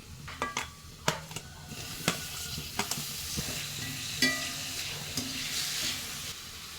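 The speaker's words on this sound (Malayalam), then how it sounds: "ഇതൊന്ന് ഇളക്കി കൊടുക്കാം ഉള്ളി ഒന്ന് വാടിയിട്ട് നമുക്ക് തക്കാളി ഇട്ട് വെക്കാം" Onions and tomatoes fry in a pan for a cabbage curry, with a spoon stirring them. A soft sizzle runs under sharp, irregular scrapes and clinks of the spoon against the pan.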